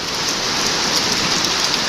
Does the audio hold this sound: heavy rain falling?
yes